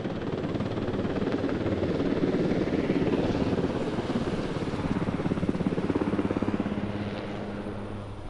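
A Swiss Air Force Super Puma helicopter flying in reverse at an airshow, its rotor thudding steadily and loud, swelling slightly then easing as it moves away; no voices.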